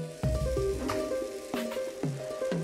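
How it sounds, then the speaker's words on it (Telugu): Pomfret fish frying in a hot pan, sizzling steadily with a few sharp clinks and pops rising over the crackle. "దీన్ని మనకి ఫ్రై అవ్వడానికి ఒక 5 నిమిషాలు టైం పడుతుందండి."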